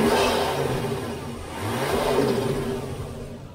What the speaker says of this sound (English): So we get all the dose pipe noises, all the flutter, but the factory look.